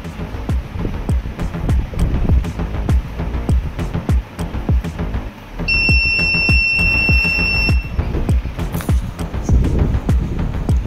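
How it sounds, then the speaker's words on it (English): A steady, high-pitched electronic buzzer tone sounds for about two seconds over a rumbling engine and rhythmic thumping noise. "it produces high pitch buzzer sound"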